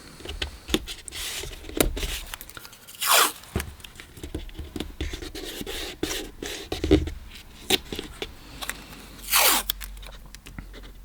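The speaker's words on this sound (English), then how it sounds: "We'll tape out a spot here." Masking tape torn and pressed down to mark out a rectangle on watercolor paper: several sharp ripping bursts between softer scrapes and handling noises, close and without talk.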